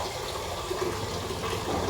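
Water poured into a cooking pot to be heated for dal, a steady, close, rushing gush that continues evenly throughout with no voices.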